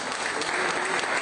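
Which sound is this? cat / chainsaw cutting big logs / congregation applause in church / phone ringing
congregation applause in church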